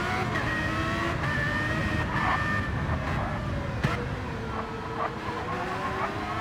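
Race cars lap Mount Panorama's walled section in a racing video game, several engines droning loudly together with rising and falling revs, occasional tire squeal, and no voices.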